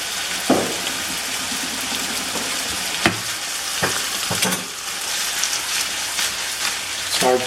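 Food sautéing in a pan for rack of lamb, a close steady sizzle broken by several sharp stirring clacks and scrapes, with no talking.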